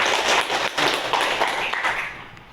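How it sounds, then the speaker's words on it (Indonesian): Classroom applause from students during an Islamic religious education lesson, a short burst of brisk, fairly close hand clapping that tapers off toward the end. "Ya, tepuk tangan"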